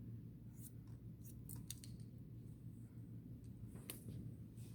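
Barber's scissors snip hair around a client's head during a haircut, faint quick metallic clicks in small clusters over a low steady room hum, with no talking.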